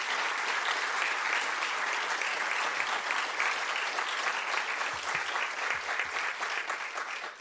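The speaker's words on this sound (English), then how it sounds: "Could we just give a thunderous round of applause for this stellar panel" Sustained applause from a sizable audience for a panel at a forum, steady clapping filling the room for several seconds and tapering slightly at the end.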